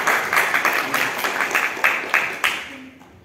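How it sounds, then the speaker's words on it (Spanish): An audience at an international poetry festival in Havana, Cuba, claps briefly, a rhythmic patter of hands that is fairly close and fades out toward the end. "Un fuerte aplauso, por favor."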